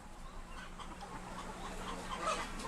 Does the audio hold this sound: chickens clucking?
yes